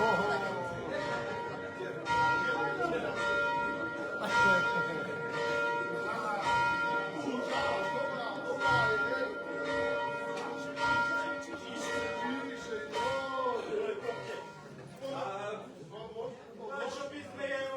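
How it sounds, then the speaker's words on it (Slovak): A church bell rings from a village belfry in Oravská Poruba during a carnival 'burying of the bass' gathering. The strokes are repeated, resonant and fairly distant, with people talking nearby throughout. "vieš, že Jurovi zváňa na zvoníci"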